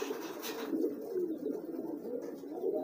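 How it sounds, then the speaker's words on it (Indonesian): Homing pigeons coo softly and steadily, a low rolling warble that repeats in a close, quiet loft with no voices. "Sebelah sini lagi ada merpati pos tuh"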